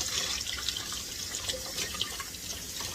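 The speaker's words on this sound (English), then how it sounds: "And then I'm just going to rinse it off." Chitterlings get rinsed under a running kitchen tap, a steady, close hiss of flowing water with faint splashes throughout.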